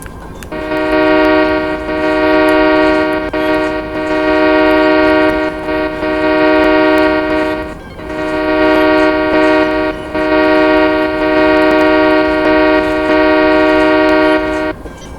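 A basic, plain train horn in Train and Rail Yard Simulator blares loud and close in two long sustained blasts, each wavering slightly, separated by a brief gap, with no other sound over it.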